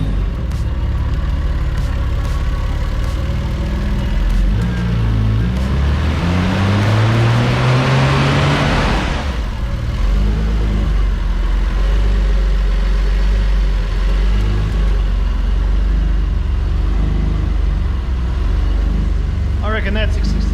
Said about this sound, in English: We're going to fire the car up now and see if there's a miss anymore.